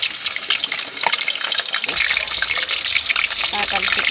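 Meat for sisig frying hard in hot oil, a loud, steady crackling sizzle with dense spattering pops and a brief sound of running water, no talking.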